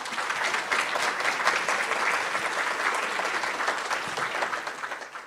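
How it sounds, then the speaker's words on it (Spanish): Strong applause from a conference audience at an LGBTTQ+ inclusion event, a sustained dense clapping that holds steady for several seconds before easing off. "Un fuerte aplauso, por favor, para todas las asociaciones."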